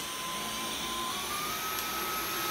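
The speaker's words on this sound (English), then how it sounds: "The boss lady will now be retesting the vacuum cleaner now that I've made the fix." Dyson V11 cordless vacuum cleaner running with its repaired torque drive head, a steady high-pitched whine and airflow hiss that holds constant throughout, fairly quiet and close.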